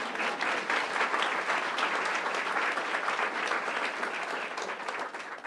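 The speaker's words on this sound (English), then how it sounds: "Go ahead and clap" A school governing board meeting audience claps steadily for about five seconds, moderately loud, the applause fading slightly toward the end.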